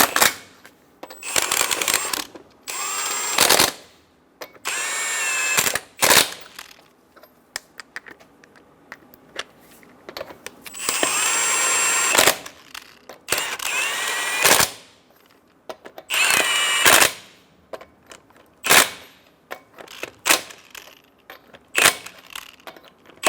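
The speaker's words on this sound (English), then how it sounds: "Snug the lug nuts down." Impact tool on Chevrolet Silverado 1500 wheel lug nuts, loud repeated rattling bursts separated by short pauses as each nut is run down and snugged, close to the microphone.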